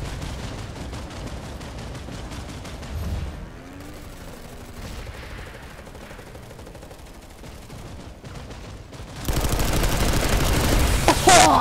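Rapid gunfire and rocket blasts in a shooter video game, a steady crackling barrage that drops back midway, then surges into a loud, harsh burst of shots and explosions.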